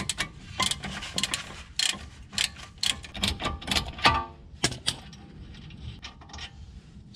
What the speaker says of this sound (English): I'm just gonna use a ratchet and take this off the rest of the way.